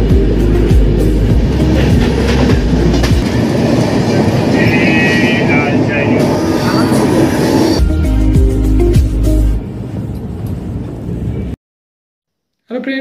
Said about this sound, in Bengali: চলে এসছে আমাদের ট্রেন, এরপর আমরা ট্রেনে চাপবো।